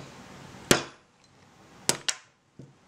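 A hammer drifts the rear sight out of a Tanfoglio Witness pistol without a vise. Four sharp metallic taps come close by, one alone and then a quick group, in a quiet room.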